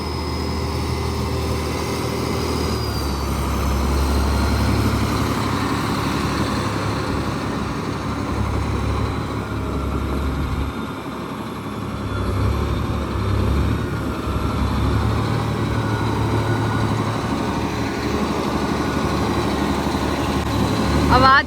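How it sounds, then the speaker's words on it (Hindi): Tractor engine running on a large Canadian farm, a steady low rumbling drone that swells and dips slightly, heard fairly close and continuing for the whole stretch. "आवाज देख रहे हो तुम, ट्रैक्टर की आवाज सुनती होगी तुमने।"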